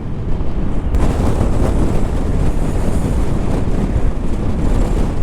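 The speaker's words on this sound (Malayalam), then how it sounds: "ഭയങ്കര കാറ്റ് കേട്ടോ" Strong wind roars loudly and continuously around a vehicle on an offroad drive through snowy mountains, a dense steady buffeting rush with no talking.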